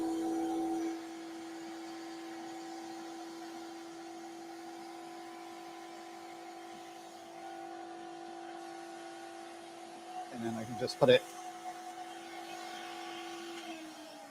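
A steady, droning hum of an old variable-speed vacuum cleaner runs throughout at moderate level, with a brief burst of bumps and clatter near the end as a voice speaks briefly over it.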